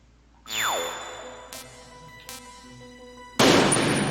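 A sharp gunshot in the video game Metal Gear Solid cracks out early with a ringing tail, then a second louder blast near the end, over steady game music.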